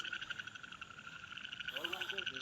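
Repeated frog croaks at night in a fast pulsing rhythm, steady and moderately close, with a second frog joining toward the end.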